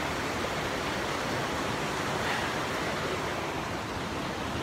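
A river on a trek in Sapa rushes in a dense, steady roar, loud and close, unbroken for the whole stretch with no voices.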